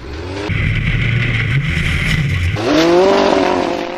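Lightweight offroad race car with a 4-cylinder 2.4-litre Honda engine at an Icelandic Formula Offroad event at Stapafell, revving hard close by with a sharp rise in pitch partway through, no voices.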